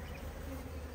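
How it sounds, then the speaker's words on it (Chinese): Honey bees buzzing around a hive, a steady faint hum from many insects with no breaks, heard alone and close. "我们这个蜜蜂是为了白糖的，你看全部都是采花粉的"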